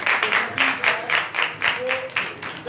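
A church congregation at a Pakistani ministry gathering claps loudly in rapid rhythmic bursts, a dense, close, continuous round of applause.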